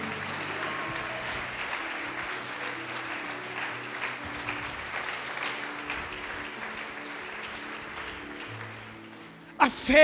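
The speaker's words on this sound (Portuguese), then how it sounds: "Pode aplaudir o Senhor e glorificá-lo." Congregation applauding in a church service, a soft wash of many hands clapping at a distance beneath a low hum, with a sudden louder burst at the very end.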